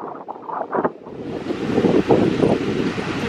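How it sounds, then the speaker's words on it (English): Strong wind buffets the microphone at a beach on a Miami or West Palm Beach outing, a loud, steady roar with surf-like wash and gusty swells and no talk over it. "It's so windy, so I'm not even sure how much you're gonna be able to hear me."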